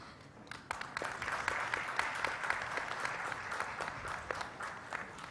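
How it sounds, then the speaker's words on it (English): Steady audience applause fills a medical stroke symposium hall at a hospital in Greater Noida, dense overlapping claps sustained throughout at moderate distance. "Ladies and gentlemen, with a huge round of applause"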